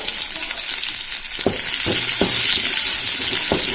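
Chopped onions fry loudly in a pan for chicken pola, a steady near hiss and sizzle throughout, with a few soft knocks of stirring from about halfway on.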